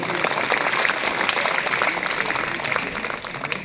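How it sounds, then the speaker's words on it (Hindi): Villagers at an outdoor gathering held by MLA Hansraj Meena clapping loudly, a dense crackle of many hands that swells near the start and tapers off toward the end. "तो यहाँ के लिए ताली बजा दो जोर से"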